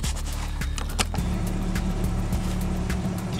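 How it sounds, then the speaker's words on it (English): A car engine starts and settles into a low idle so the defroster can run on a snowy day, with a few sharp clicks and clunks early on and a steady hum afterward. "I'm gonna go ahead and start the car so the defroster can do its job"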